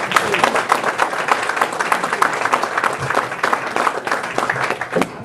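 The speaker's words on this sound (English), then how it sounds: "Y'all just give a round of applause for him." An audience at a talk on drugs in the Black community breaks into sustained applause, dense continuous clapping from a crowd, loud and steady throughout with a few scattered voices mixed in.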